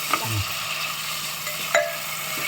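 Tomatoes with salt sautéing in a pan for sambar rice, with a soft steady sizzle and a few brief stirring scrapes, close and quiet.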